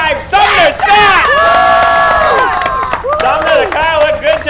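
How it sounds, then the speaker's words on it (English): A crowd at Star Speedway cheers and whoops loudly with sustained shouts and rising calls for the driver of car number 5, who finished second, with a few strong voices standing out across the whole stretch. "How about a big round of applause for car number 5, Sumner Scott!"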